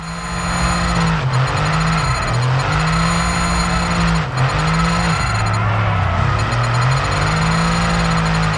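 A Formula 1 car's engine in the F1 2022 racing game, driven sideways in drifts, screams loudly and continuously, its pitch rising and falling repeatedly as the throttle is worked, with no talking.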